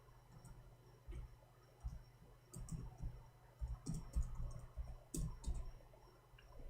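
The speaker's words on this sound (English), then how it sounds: "let us type this." Light clicking of keys as someone types on a computer keyboard, irregular taps in short bursts, faint and close with no talking.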